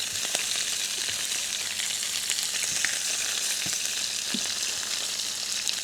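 Rabbit pieces browning in oil in a pot for a Ligurian-style rabbit dish give a steady, close, dense sizzle throughout, with no talking.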